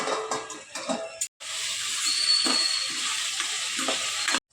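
Onions and tomatoes for pav bhaji fry in a pan with a steady, close sizzle that hisses on for several seconds, briefly broken by a short pause and cut off at the end.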